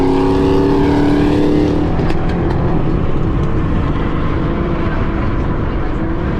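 A loud Chrysler 300S engine roars in traffic, first a heavy droning rev, then a sustained rumbling exhaust with a rough, throaty low end, close and dominant throughout.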